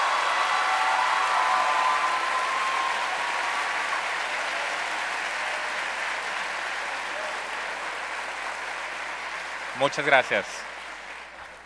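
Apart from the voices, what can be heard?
applause for a candidate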